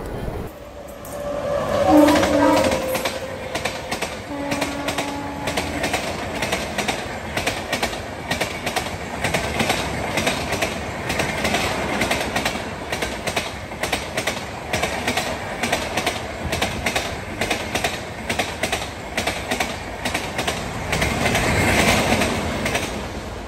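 An Indian Railways Howrah Mail train runs on its rails in a long, loud stretch of rumbling wheel noise with rhythmic clickety-clack and some squeal, heard from aboard the train, with a brief voice early on.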